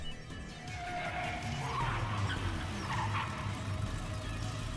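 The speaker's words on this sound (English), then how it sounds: "The rear tire slipped. The car spun in a circle." A car's rear tires skid as it spins in a circle during a car shootout in a visual novel, a rough screeching slide with rising squeals, moderately loud with no talking.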